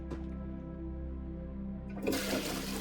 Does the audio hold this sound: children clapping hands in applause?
no